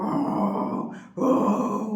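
A human voice imitates a kitten's constant snoring with two drawn-out, rasping, throaty snores separated by a short gap. The sound is close and fairly loud.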